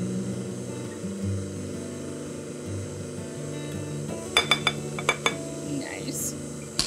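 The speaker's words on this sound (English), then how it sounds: "give it a good whisk to mix them all together. Try to keep it in the bowl." A whisk clinks against a bowl while mixing cupcake batter ingredients, a few sharp metallic taps in quick succession over a steady low kitchen hum.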